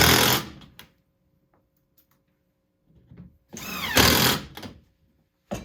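A power drill drives 1 1/4 inch wood screws into a wooden shelf in two loud whirring bursts separated by a quiet pause, with the second burst longer and straining as the screw seats.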